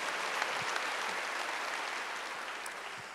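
A church congregation at a Wednesday worship service claps together in a steady, moderately loud wash of hand claps, heard from the room with a few faint thuds beneath.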